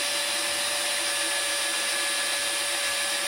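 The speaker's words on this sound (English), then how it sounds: "So we're drilling through both of those" A power drill bores through the metal frame tubes of a vintage Honda Z50 mini trail bike, whining continuously at a steady high pitch, loud and close, with no pauses or speech.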